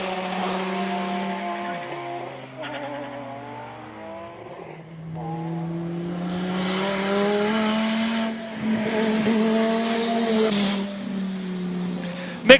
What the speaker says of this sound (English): Normally aspirated 6-cylinder, sounding spectacular.